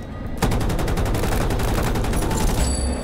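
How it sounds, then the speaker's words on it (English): Gunfire in a Battlefield video game, a loud, rapid run of closely spaced shots that starts abruptly and rattles on steadily without pause. "Oh, I shouldn't be shooting."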